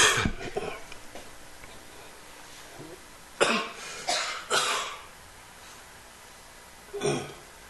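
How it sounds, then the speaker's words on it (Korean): Several sharp coughs in a church prayer service, one near the start, a close pair in the middle and another near the end, each a short loud burst over quiet room tone. "내가 기침할 때 따라하지 마세요."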